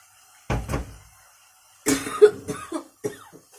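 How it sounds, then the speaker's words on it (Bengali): A person cooking fish coughs from the sharpness of very hot chilies, first a short burst of coughs, then a longer cluster of harsh coughs and throat sounds, close by in a quiet kitchen. "আসলে আমার মরিচগুলো অনেক ঝাল যার কারণে আমার কাশি আসতেছে"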